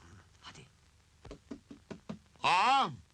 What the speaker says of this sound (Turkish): Bir daha tıklat hele.